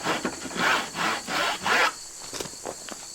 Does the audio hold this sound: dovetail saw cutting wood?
yes